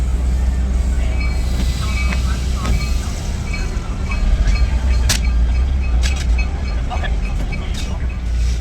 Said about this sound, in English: the 5000 disconnected and moved back into the yard to couple back to the dinner train